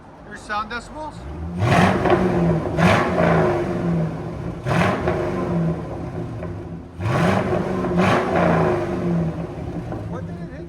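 A 1999 Chevy Corvette 5.7L V8 with an H-pipe delete and Borla ATAK exhaust revs loudly in three or four deep bursts, with people talking between and over the revs.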